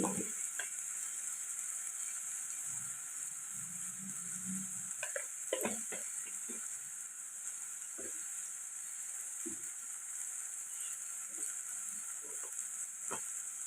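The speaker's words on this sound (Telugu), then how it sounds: "ఇప్పుడు ఇవి బాగా కలుపుకోండి ఒక నిమిషం పాటు మసాలాలన్నీ ఫ్రై చేసుకోండి" Ground spices like chili powder, coriander powder and garam masala frying in oil for egg curry, with a steady soft sizzle and intermittent scraping stir strokes of a spoon in the pan, close and alone.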